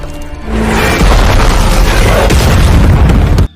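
A loud, close explosion from an RPG attack in a war film, a deep rumbling blast that holds heavy and continuous for about three seconds before cutting off abruptly.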